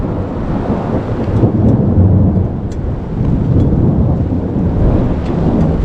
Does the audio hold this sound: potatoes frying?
no